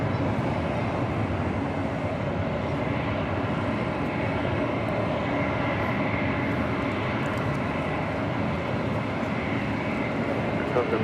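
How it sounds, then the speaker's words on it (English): Air France Boeing 777-300ER airliner taxiing at LAX, a constant broadband jet roar with a steady rumble throughout, fairly loud and unbroken. "Air France there in the distance, heading back to Paris in the 777-300ER"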